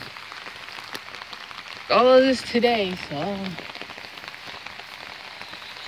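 Steady rain hisses down near a flooded creek, a constant close wash of drops under someone speaking briefly in the middle.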